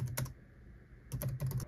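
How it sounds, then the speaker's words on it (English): Fingers tap on a Toshiba laptop keyboard, a short quiet cluster of keystrokes, then a pause, then a few more taps close to the microphone. "I guess I could type on that."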